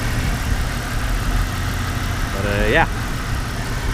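A 1998 two-door Jeep Cherokee XJ with a straight-six idles steadily in the background, a low continuous rumble with a brief rising whine near the end, while a person talks over it.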